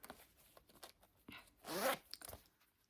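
A thick silver zipper on a purse pouch is drawn in a few short, quiet ticks, then one louder ratcheting pull followed by small scratchy movements.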